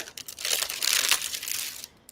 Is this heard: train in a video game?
no